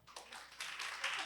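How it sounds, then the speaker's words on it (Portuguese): An audience at a closing ceremony of a judiciary memory week applauds, a soft, fairly distant patter of clapping that swells and thickens over about a second. "Palmas para Keila."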